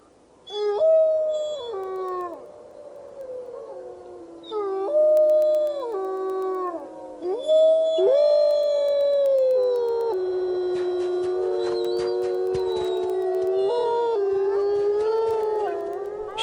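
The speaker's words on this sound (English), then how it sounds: "Jamie spends her spare time accumulating an archive of the pack's howls" A pack of wolves howls in long, sliding, overlapping tones, several voices rising and falling together at close range with no talk, the chorus thickening and sustaining steadily through the second half.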